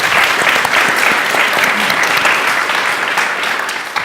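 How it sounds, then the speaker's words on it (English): A conference audience applauds a speaker named Bethan, a dense, steady wash of clapping from a full room that holds level for the whole stretch and eases slightly at the very end. "A round of applause for Bethan, please."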